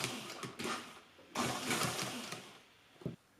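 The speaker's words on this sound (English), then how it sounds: "now I'm going to go all the way along and sew through all the layers until I get to the same spot at the other end where I'll stop" A sewing machine stitches a skirt onto a bodice through all the layers, whirring in two bursts separated by a short pause, close by and alone.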